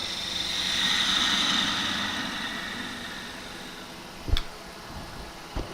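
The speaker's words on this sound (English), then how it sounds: "I'm going to come back in there with the spindle gouge and just curve this bit here" A spindle gouge cuts a monkey puzzle wood end grain bowl spinning on a lathe, giving a steady whirring, hissing cut that swells and fades, then two sharp knocks near the end.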